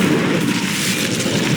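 A fire spell cast in the Hogwarts Legacy video game, a dense roaring blast of flame that sounds like a sustained boom, loud and steady throughout with no voice over it.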